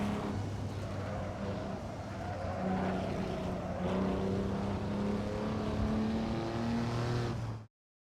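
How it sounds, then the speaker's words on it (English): A racing engine, a 1954 Maserati 250F in the Assetto Corsa video game, drones steadily at high revs, its pitch climbing and shifting through gears, loud and continuous before cutting off abruptly near the end. "is the sound of Kuno's 1954 Maserati 250F, but it fits and sounds similar to what you can hear"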